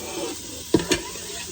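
Half an onion hits hot avocado oil in an Instant Pot on the sauté setting, giving two quick, close sizzling clatters over a low background hiss.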